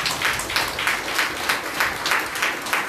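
A congregation claps during a Sunday church worship service at Madikonda, a steady rhythmic beat of many hands at a regular pulse, moderately loud and close, with no speech.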